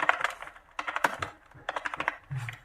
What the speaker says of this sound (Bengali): দেখেন আমি এখানে একটা নাম লিখলাম